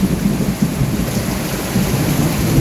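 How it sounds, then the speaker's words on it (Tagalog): Heavy rain pours down on a garden during a thunderstorm in a dense, steady roar with a low rumble beneath it, loud and close. "Lakas ng ulan."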